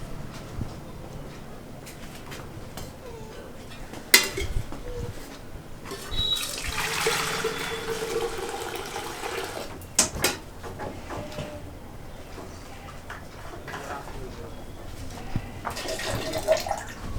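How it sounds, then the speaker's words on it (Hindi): Water is poured into milk in a brief, soft splashing rush, faint and surrounded by quiet room noise and a few small knocks. "पानी मिलावे है दूध में।"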